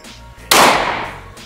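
A single sharp pistol shot fired during practical shooting training, loud and close, bursting out over a low steady hum and ringing away in a long decaying tail.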